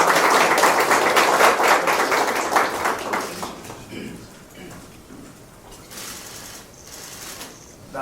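Audience at a Jeonbuk provincial government event claps loudly in a dense crowd applause that thins out after a few seconds, with scattered claps and murmured talk continuing underneath.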